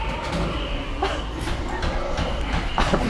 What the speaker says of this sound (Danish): Toget.